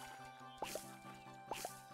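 Crops being watered in the farming video game Staxel: two pairs of short, soft liquid drip and splash effects spaced about a second apart over quiet background game music.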